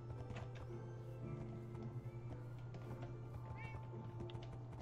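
A black cat in Minecraft meows softly a few times over a low, continuous game background hum, with faint chatter mixed in.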